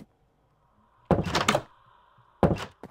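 A wooden door in Minecraft gives two short, close thunks about a second apart against near silence.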